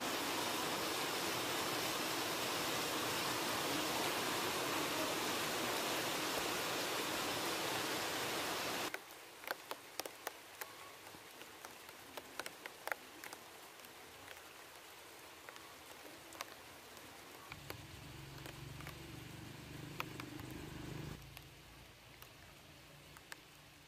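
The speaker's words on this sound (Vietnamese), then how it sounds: "trời mưa, tự nhiên có đám mưa to ghê" Heavy rain pours down in a dense, loud hiss for the first several seconds, then drops to a quieter patter with scattered sharp drips and taps on nearby surfaces, with no voices.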